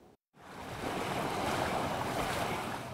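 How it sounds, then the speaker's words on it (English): Floodwater rushes through a flooded Nashville neighbourhood in a loud, continuous roaring wash after a brief moment of silence, with wind buffeting the microphone. "All I seen was a lot of water coming towards this way."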